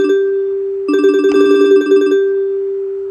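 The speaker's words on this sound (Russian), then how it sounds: "Ой, извините, мне здесь звонят." A telephone bell rings in a quick trilling burst over a steady electronic hum, fairly loud and close, with no voices.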